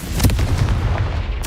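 A Confringo spell blasts in the Hogwarts Legacy video game, a heavy booming burst with a rumbling low tail that fills the short moment, followed by a brief higher crackle at the end.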